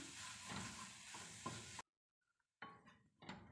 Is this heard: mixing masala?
yes